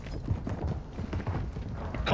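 Horse galloping in the Warzone 2 video game, rapid rhythmic hoof clip-clops close by, with voices talking over the game audio.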